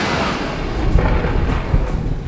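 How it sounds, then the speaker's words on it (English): Thunder and storm effects from a staged hurricane in a theatre production, a dense, loud low rumble with heavy booming swells rolling continuously under a wash of noise. "It has to do with guns going off and crashes through windows and lightning and thunder and rain and screams."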